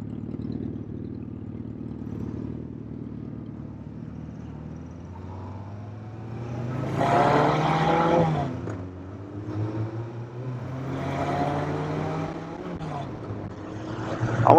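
A Suzuki Hayabusa motorcycle speeds past, its engine rising in pitch as it approaches and passes, then a second pass follows, heard from a moderate distance with no talk.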